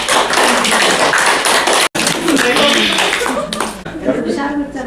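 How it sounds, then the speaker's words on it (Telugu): Applause from an audience at a spiritual talk, a dense, loud patter of many hands clapping that runs steadily for several seconds, briefly cuts out, then resumes and tapers off. "వీళ్ళకి ఒకసారి గట్టిగా క్లాప్స్."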